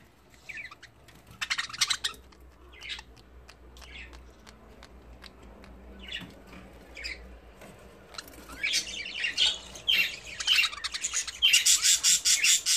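Budgerigars squabble and fight with bursts of harsh squawks and quick chirps. The calls come close and grow louder and more frantic toward the end.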